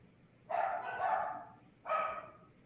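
A speaker's own dogs bark twice in the background during an indoor conversation: one longer bark or cluster of barks, then a shorter one after a brief pause, moderately loud and alone.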